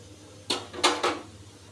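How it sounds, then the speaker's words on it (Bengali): Vegetables stirred in a pot with a spoon, three short scraping strokes in quick succession, fairly close and moderately loud, with no talking. "এবার আমি একটু নাড়া দিয়ে দিচ্ছি।"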